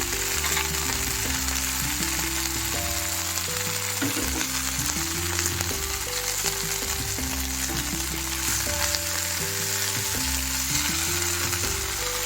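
Mint and coriander leaves sizzle and fry in a pan for hotel-style neer chutney: a steady, loud, crackling sizzle that runs throughout with no talking.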